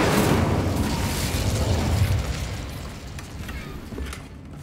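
An Incendio fire spell from Hogwarts Legacy, a broad roaring fiery burst that is loudest at the start, then slowly tapers off across several seconds with a few small crackles near the end.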